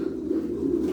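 Pigeons in a loft give a low, soft, continuous coo, close and steady for a brief moment with no other sound.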